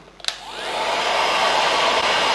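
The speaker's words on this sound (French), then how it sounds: "à l'aide de notre sèche-cheveux, on va légèrement chauffer" Hair dryer blowing warm air onto the rim of an eyeglasses frame, starting with a couple of small clicks and then a steady, loud broadband whoosh that holds on alone.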